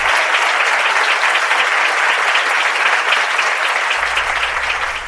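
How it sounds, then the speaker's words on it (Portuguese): Congregation in a church giving strong applause, loud continuous clapping from many hands filling the space for the whole stretch without letup. "Um aplauso forte ao Senhor."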